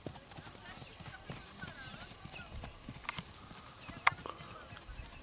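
A horse moving in a marcha de centro gait sets down faint, steady, rhythmic hoofbeats, heard at a distance under wind and background noise, with one sharper knock.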